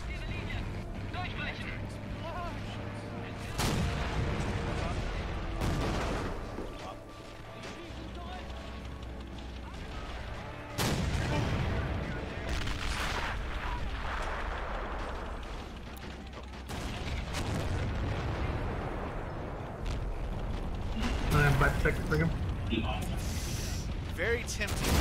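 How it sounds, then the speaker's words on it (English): Explosions and artillery fire in the war video game Men of War Assault Squad 2, repeated heavy booms at irregular intervals over continuous battle noise, with people talking throughout. "There's an explosion right there."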